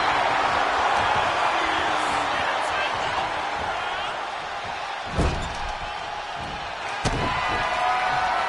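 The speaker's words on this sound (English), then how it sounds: "Gonna counter power slam." A power slam in a WWE 2K26 wrestling match, two sharp heavy body impacts on the mat a couple of seconds apart over a steady arena crowd roar, with commentary talk running alongside.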